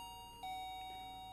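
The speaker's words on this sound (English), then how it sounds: "The doorbell rings again" A doorbell rings once, a faint, sustained single chime that rises out of a quiet room tone and lingers.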